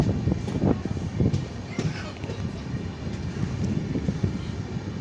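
The SSS Hubballi weekly superfast express train crawls slowly past Pudukkad station, with uneven low clattering and rolling thumps and a steady mechanical drone filling the space throughout.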